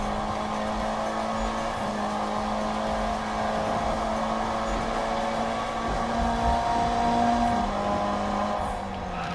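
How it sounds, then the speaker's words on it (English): A Mitsubishi Lancer Evo engine in Need for Speed (2015) drones steadily at high revs, a loud continuous racing hum that shifts pitch slightly as the car accelerates. "This car sounds amazing though"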